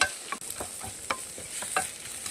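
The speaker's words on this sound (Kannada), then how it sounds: "ಚೆನ್ನಾಗಿ ಇವಾಗ ಫ್ರೈ ಮಾಡ್ಕೊಳ್ತಾ ಇದ್ದೀನಿ." Crab masala with grated coconut and turmeric frying in a pan, a steady close sizzle broken by repeated scraping stirs of a spoon through the mixture.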